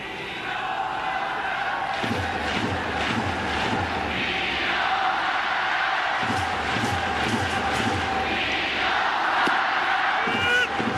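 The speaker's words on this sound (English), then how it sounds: "Boy, the crowd here in this ballpark puts in a night's work, that's for sure." Baseball crowd at a ballpark during a Yankees versus Yomiuri Giants game, a steady broad roar of voices with rising swells of cheering and shouts, loud and continuous throughout.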